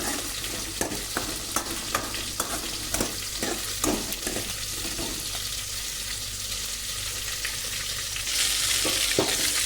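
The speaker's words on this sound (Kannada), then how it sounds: "ಇದು ಸೊಪ್ಪಿಗೆ ಒಗ್ಗರಣೆ ಕೊಡೋದು ಫ್ರೆಂಡ್ಸ್" Green chillies and onion being tempered in hot oil, a continuous loud sizzle with rhythmic scraping stirs near the start and a louder hissing surge toward the end, no voices.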